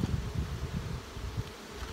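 Dense, steady buzzing of honeybees packed into a crowded, congested hive, a close low drone with fluctuating intensity throughout and no voices.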